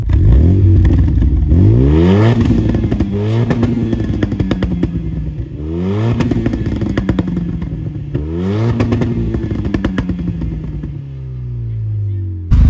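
A Renault Megane 2 RS with Stage 2 tuning revs hard three times, each rise followed by crackling, popping exhaust on the overrun. It is loud and close, with a brief idle between pulls.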